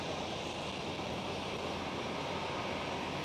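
At Schiphol in Amsterdam, an airliner roars on the eastern runway as a steady broadband rumble. It holds at a constant level, heard from a distance with no talking.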